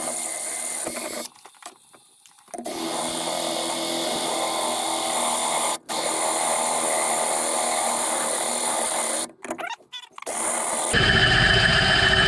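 A step drill bit boring a hole during mobile welding fabrication of a bracket for a Peterbilt 359, a loud whining power-drill grind in long bursts broken by short pauses, then a harsher burst at the end.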